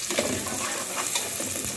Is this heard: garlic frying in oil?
yes